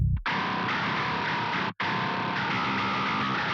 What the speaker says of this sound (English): Here I have the mid signal of the bass.